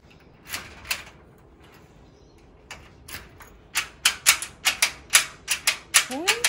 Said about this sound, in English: Now we're going to unlock the door with the key.